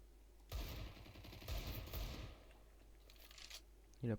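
Gunfire in a multiplayer shooter video game: several bursts of rapid shots at moderate level, with quieter spells between volleys and a sharp final hit at the end.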